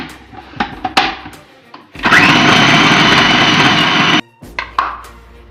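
Electric chopper mincing chicken with breadcrumbs in a loud, even whir lasting about two seconds, set between brief clicks and handling knocks from a home kitchen.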